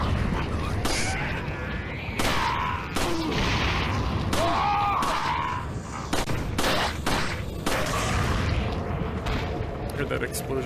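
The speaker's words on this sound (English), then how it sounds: "heard that explosion coming" Dense, loud bursts of gunfire and booming explosions in Resident Evil 4 VR pile over each other in rapid succession, with voices talking underneath throughout.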